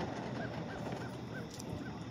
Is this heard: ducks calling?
yes